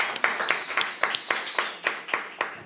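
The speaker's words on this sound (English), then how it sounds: "Let's give Leo a big round of applause" Sparse, rhythmic clapping from a small talk show audience welcoming a guest, with individual claps spaced about every quarter second and no voices.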